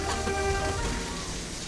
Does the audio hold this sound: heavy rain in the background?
yes